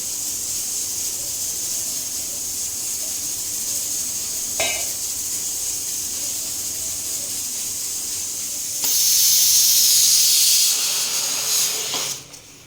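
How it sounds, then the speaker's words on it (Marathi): A pan of sugar and water syrup boils on the stove for cashew sweets, a close, steady hiss that briefly grows louder and more sizzling near the end before fading. "आता हे छान मस्त उकळत आहे"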